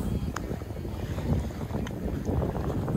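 Light wind gusting steadily across a calm Mediterranean beach at Santa Ponça, a soft broadband rush with low rumble, continuous and moderately close to the microphone with no voices.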